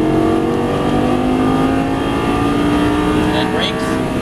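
A Lamborghini Gallardo engine revs loud and close under throttle on a track, a sustained rising drone with slowly climbing pitch and a brief squeal near the end, with a voice speaking over it.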